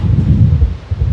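Strong wind buffets the microphone outdoors near a waterfall in the Upper Peninsula, a low rumbling gusty roar for about a second.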